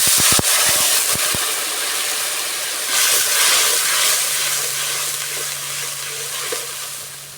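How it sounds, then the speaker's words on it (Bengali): Water in a pan seasoned with chilli powder, salt and cumin, cooking for a Bengali amadi fish curry with thankuni leaves, gives a steady, close bubbling hiss that runs on alone with a few soft clinks early on. "জলটা ফুটে উঠেছে"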